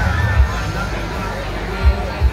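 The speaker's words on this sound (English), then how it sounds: "The crowd's growing, y'all." A growing crowd gathers and chats before a country music show in Portland, Indiana: steady babble of many voices with a few soft low thumps, moderately loud and continuous.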